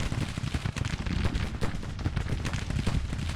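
Musket volleys in the American Civil War strategy game Grand Tactician: The Civil War form a dense, continuous crackle of overlapping shots, like massed infantry firing at a distance, with no pauses.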